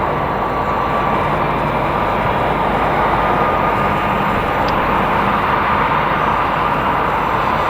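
A Vietnam Airlines A350 airliner at Madrid Barajas Airport produces a continuous broad jet roar that holds at a constant level throughout, with no voices over it.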